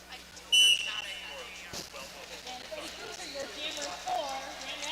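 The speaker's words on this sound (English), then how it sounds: "Whistles blow." Referee whistles blow at a roller derby bout as a jam ends, one sharp shrill blast standing out briefly over a busy arena crowd and continuous commentary.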